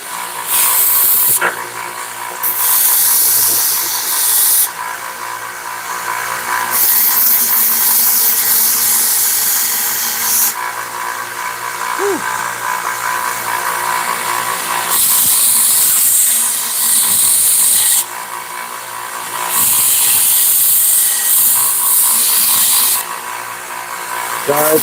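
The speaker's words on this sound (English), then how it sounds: "Take this to the belt sander." A belt sander grinds the metal of a handmade knife in loud, harsh bursts of a few seconds each, separated by short pauses, up close and dominating the scene.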